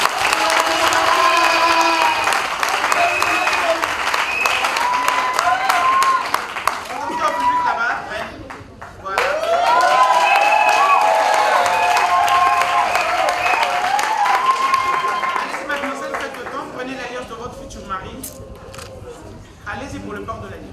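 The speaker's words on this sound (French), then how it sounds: "Applaudissez s'il vous plaît." Guests at a wedding ceremony burst into sustained clapping and cheering, loud and close, with voices calling out over the applause. The applause dips briefly, then swells again before tapering off.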